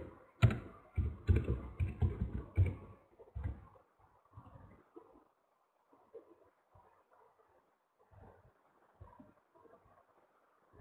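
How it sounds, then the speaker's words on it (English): Fast, uneven keyboard typing during an online economics class, a dense flurry of clicks in the first three seconds, then sparser, fainter taps trailing off. "Disha, you are typing something"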